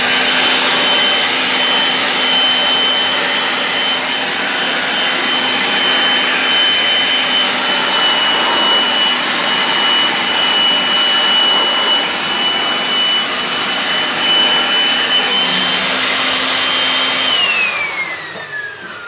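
A leaf blower blasts air steadily at close range to clear dust from an ice machine, a loud continuous roar with a high whine that holds for most of the time, then drops in pitch and fades near the end.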